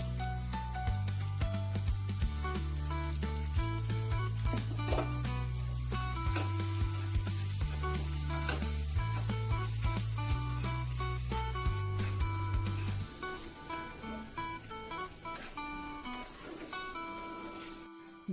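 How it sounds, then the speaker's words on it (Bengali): Diced potatoes fry in oil with salt and turmeric in a pan, giving a steady, loud sizzle that continues throughout, with a low rhythmic musical backing for most of it and no talk. "আলুগুলো নুন হলুদ দিয়ে ভালো করে ভেজে নেব।"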